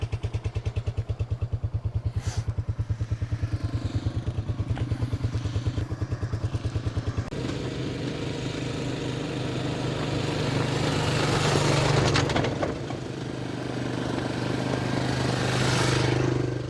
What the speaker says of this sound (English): after riding that trike all the way here